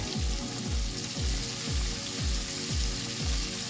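Flour-coated quail fries in hot oil over medium-high heat, a steady close crackling sizzle with a low rhythmic thumping pulse about twice a second underneath.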